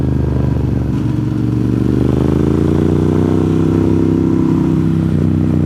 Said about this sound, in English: I wish this camera could pick up all the sounds that this bike makes when you ride it.